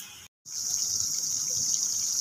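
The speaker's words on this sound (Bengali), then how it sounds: "এবার এর মধ্যে আর একটু জল দিয়ে দেওয়া হলো" Water poured into a pan of drumstick curry: a steady, hissing gush that runs continuously after a brief silent gap at the start, close and fairly loud, with no voices.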